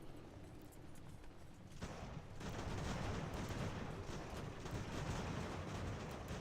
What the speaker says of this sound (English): God, that artillery is pretty devastating.